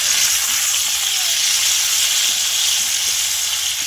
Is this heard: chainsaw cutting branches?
no